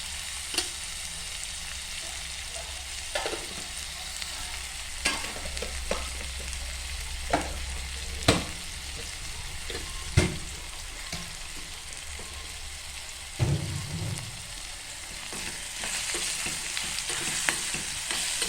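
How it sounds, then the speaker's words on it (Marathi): Chopped onion with turmeric frying in a pan: a continuous bright sizzle with occasional scraping stirs and clinks of a spatula, close and steady, with no talking. "आता कांद्याला अर्ध शिजवून देऊया"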